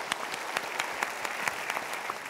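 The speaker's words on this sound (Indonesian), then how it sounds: "Kita berikan tepuk tangan dulu untuk dia." A studio audience at an Indonesian talk show breaks into applause, a steady patter of many hands clapping at moderate distance, brief and unbroken.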